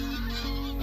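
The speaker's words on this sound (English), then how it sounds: "Canada geese, grey lag" Canada geese and greylag geese on a marsh scrape, a loud, dense chorus of overlapping honks with no break, close and continuous.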